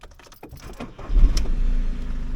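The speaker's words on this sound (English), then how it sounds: "Restart the vehicle, wait for 10 minutes, and then retake your pressure reading." An Audi A2 engine starting up: keys jingle at first, then the motor catches and settles into a steady close idle hum.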